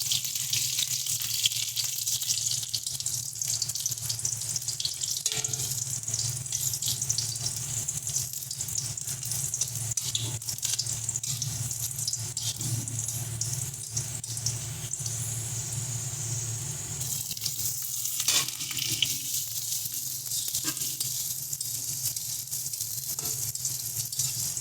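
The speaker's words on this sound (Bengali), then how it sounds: "আলুটাকেও হালকা ভেজে নেব।" Potatoes frying in hot oil with onion tempering for a Bengali okra and prawn dish, a loud hissing sizzle that runs throughout and briefly eases near the middle.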